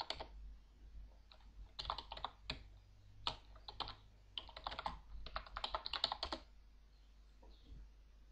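Someone types commands on a computer keyboard while playing the Aardwolf MUD text game: irregular bursts of crisp, close keystrokes separated by short pauses, ending in quiet.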